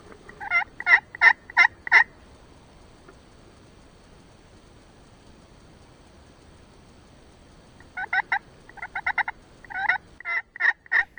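A wild turkey gobbler in big woods gobbles in two bursts of rapid, rattling calls, the first short, then silence, then a longer run of gobbles, moderately distant.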